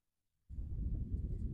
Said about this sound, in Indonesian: Ini ada suara kipas angin.